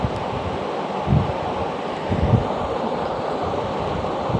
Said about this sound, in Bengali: এরপরে আমাদের মাংসটা বেশ ফুটে এসছে টকবগিয়ে